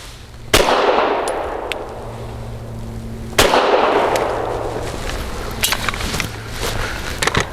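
Two sharp, loud gunshots from a Tisas PX 9 Gen 3 Tactical 9mm pistol, spaced about three seconds apart, each followed by a ringing decay outdoors, with fainter clinks after.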